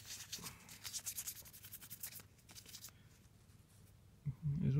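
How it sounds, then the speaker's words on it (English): A soft, dry rubbing scrape against a surface while working on a painted dragon eye, repeated in quick strokes, close and faint, fading into quiet before a brief low thump at the end. "I'm just going to rub this all off"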